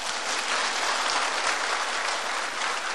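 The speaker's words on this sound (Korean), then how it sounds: "박수." Church congregation at a pastor's lecture bursts into sustained, even applause, a dense wash of many hands clapping at moderate volume with no talking over it.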